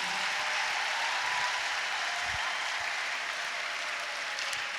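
Congregation applause during a church prayer service, steady and fairly faint clapping that sounds somewhat distant and keeps going without a break.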